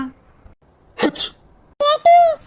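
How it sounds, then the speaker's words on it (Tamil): Two quick sneezes burst out close by in a comedy skit, followed by a voice speaking. "யாரோ தும்முன மாதிரி சத்தம் கேட்டுச்சுடி"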